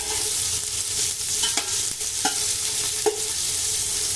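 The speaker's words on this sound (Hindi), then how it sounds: "प्याज को हल्का फ्राई करेंगे, इसका कलर चेंज नहीं करेंगे।" Thinly sliced onions fry in a mix of ghee and refined oil, giving a loud, close, continuous sizzle broken by a few scrapes and clinks of a spatula stirring them through the pan.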